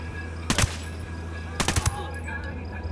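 Submachine gun fire in Tom Clancy's Ghost Recon Wildlands: two short, sharp bursts of rapid automatic shots about a second apart, over a steady low in-game background hum.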